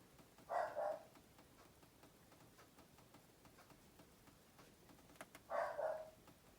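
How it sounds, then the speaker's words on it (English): An indoor dog barks twice, a short double bark and then another a few seconds later, faint and off at a distance in a quiet room. "I have no idea what my dog is so torn up about."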